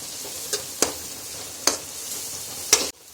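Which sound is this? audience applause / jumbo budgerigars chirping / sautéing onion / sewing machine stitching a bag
sautéing onion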